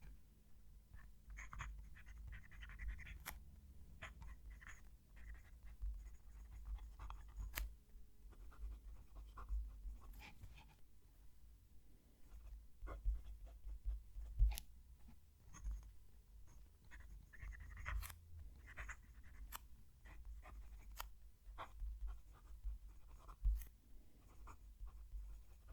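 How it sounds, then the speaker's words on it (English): A fountain pen nib (Jinhao 9056 or Majohn M1000) scratches across paper with the mic close to the page, faint continuous scritching strokes broken by small taps and pauses as a sentence is written. "I'm going to move the mic down to the page and write a sentence."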